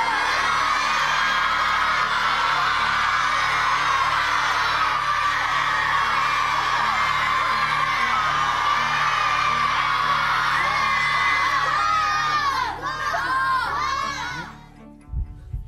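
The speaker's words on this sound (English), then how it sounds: "Boys and girls, your shouts have been counted and verified." A studio audience of children shouts and cheers to vote, a loud, sustained crowd roar of whoops and yells that runs unbroken for many seconds before breaking into scattered screams and dropping off at the end.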